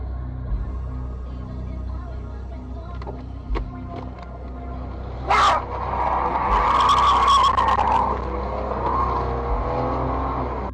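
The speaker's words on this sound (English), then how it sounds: "Scared, the car speeds up and drives away." A car accelerates hard and pulls away with a loud tire squeal and rising engine roar following a few lighter knocks and thuds, the noise staying strong to the end.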